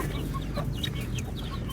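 Several chickens cluck softly nearby in short, scattered calls over a constant low rumble of background noise.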